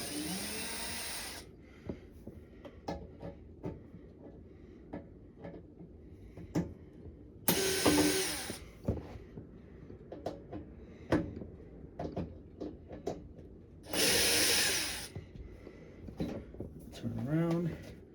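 Power drill backing screws out of a GE window air conditioner, with three loud whirring bursts near the start, middle and end, separated by clicks, handling noise and someone talking.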